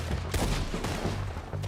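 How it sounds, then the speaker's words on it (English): A barrage of gunfire in the Red Dead video game: dense, loud, overlapping shots crack out in quick bursts throughout, with no talking. "just a barrage of bullets"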